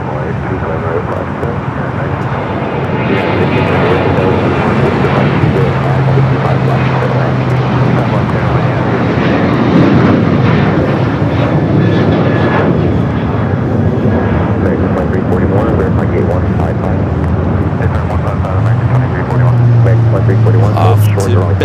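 A United airliner on runway 25 right at LAX produces a steady, loud jet roar that runs throughout, with radio chatter and people talking over it.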